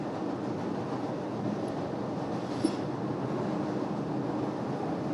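A train rumbles steadily past the Lincoln Square stop in Chicago, a continuous, even roar of wheels on rails with a faint squeal at one point.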